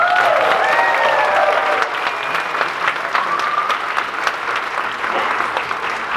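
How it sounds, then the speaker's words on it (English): An audience at a school fall orchestra concert gives a sustained round of applause, a loud, dense clapping wash lasting throughout, with faint instrument tones lingering at the start. "Let's give them another round of applause!"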